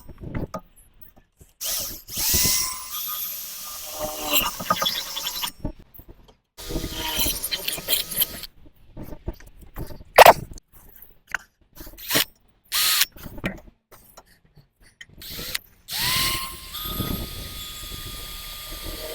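A power drill boring pilot and then larger holes into the metal bull bar of a 2017 Mercedes Sprinter campervan, in loud close bursts broken by pauses and ratcheting clicks.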